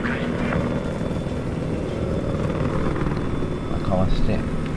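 A video game helicopter in Battlefield 4 thrums steadily with its rotor throughout and a broad engine rumble, loud and continuous, with faint chatter over it.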